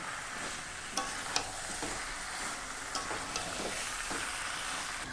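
Chicken fries in a pan with cumin powder, coriander powder and previously fried potatoes, a steady close sizzle broken by a few light clinks and scrapes of stirring.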